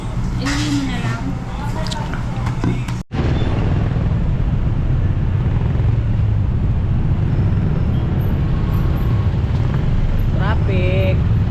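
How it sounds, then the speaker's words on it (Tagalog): Steady road traffic noise from a vehicle stuck in a jam, a constant broad rumble of engines under intermittent nearby talking, with a brief dropout partway through. "Traffic."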